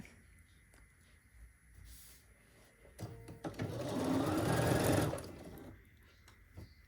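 A sewing machine stitches quilt strips in a quilt-as-you-go project, starting with a few faint taps and clicks, then running in one steady whirring burst of about two seconds before stopping.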